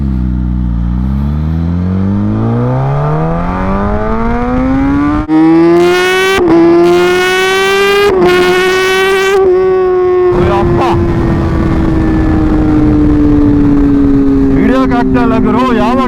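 A Mahindra Thar fitted with a Rapid Bike Evo module revs hard at full throttle, its loud engine note climbing steadily, shifting pitch in distinct steps, then holding and easing off, close and dominant throughout.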